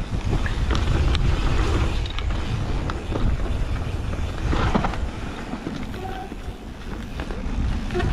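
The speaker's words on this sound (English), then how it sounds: "how windy it is" Strong wind roars steadily across the microphone, a dense continuous rumble with gusty buffeting and no talking.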